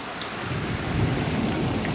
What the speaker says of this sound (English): Do you hear that? That's the sound of rain.